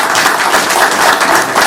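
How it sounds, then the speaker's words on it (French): Sustained applause and ovation from an audience at an office handover ceremony between outgoing and incoming directors general, a steady dense wash of clapping throughout. "Vous échangez sous nos applaudissements et ovations"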